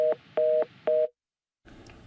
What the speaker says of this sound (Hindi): थोड़ा फोन कट गया